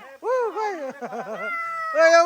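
A black cat meows several times in quick succession on a hiking trail in Shivapuri National Park near Kathmandu, close and fairly loud, the calls rising and falling in pitch with short breaks between them.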